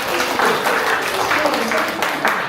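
A church congregation at a Sunday worship service claps together, a dense, steady wash of applause at even loudness throughout, with voices mixed in.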